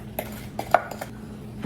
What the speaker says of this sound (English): we're just gonna incorporate the flour mixture with the banana mixture until it's all incorporated